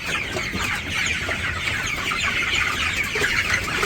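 A flock of medium and large hens grabbed one by one, their nervous clucks and cackles running on steadily and loudly at close range, no talking over them.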